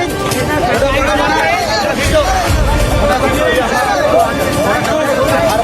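Dense crowd babble fills a packed gathering, many voices overlapping at a steady, close, loud level with no pauses.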